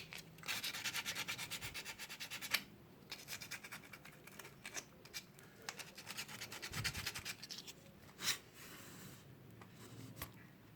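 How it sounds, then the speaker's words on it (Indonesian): Sandpaper rubs back and forth on the electrical contacts by the battery of a Yamaha Megapro motorcycle. The scratchy strokes come close but faint, in an irregular rhythm with short pauses, and no one speaks. "Nah kemudian coba kita amplas ya, yang pada bagian sini sama sini teman-teman."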